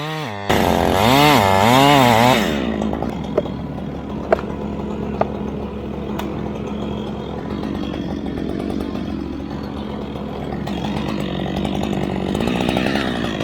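A chainsaw makes the top cut while a tree is being felled. The engine roars loud and close for about two seconds, then falls to a lower, rough running drone with scattered sharp knocks.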